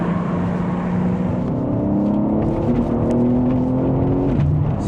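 A BMW M3 CS driven hard gives a loud, steady engine roar, rising through the revs and then dropping as the gears shift, heard close from inside the car, with no voices.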